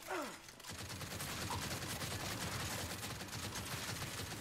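Sustained rapid gunfire in the Gears 5 video game, a dense continuous rattle of automatic weapons at steady loudness throughout, with no speech.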